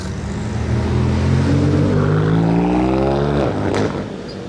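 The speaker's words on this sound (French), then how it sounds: "ça sonne tellement bien, son échappement" A sports car's exhaust roars loudly as the engine revs and pitch climbs steadily, then drops sharply near the end with a brief crackle, close by.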